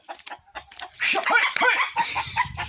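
A black chicken clucks close by in a short burst of several sharp, uneven clucks and squawks, fairly loud, with faint rustling in the background.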